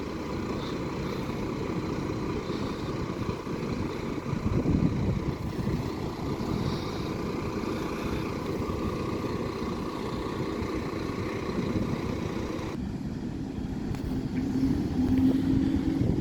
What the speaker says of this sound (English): Buses are now gradually arriving at Scunthorpe Bus Station.